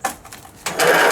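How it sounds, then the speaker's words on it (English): A riding mower with a bad starter is cranked by turning the key, giving a short clunk and then a loud, harsh whirring grind from the failing starter motor, up close with no talking. "well, this motor's got a bad starter,"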